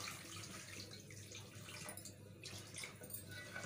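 Water poured steadily into a cooking pot of potatoes for potato tahari rice, a close, continuous splashing and gurgling stream that runs unbroken with no talk.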